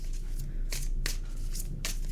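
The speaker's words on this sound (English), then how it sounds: "This deck I can shuffle" Tarot cards from a smaller deck being shuffled at close range, a few crisp riffling bursts spaced across a steady low hum of room noise.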